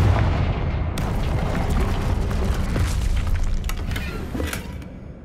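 Confringo fire spell exploding in Hogwarts Legacy, a dense, continuous roar of booming blasts and rumble that stays loud for several seconds with crackling impacts layered on top, then eases slightly at the end.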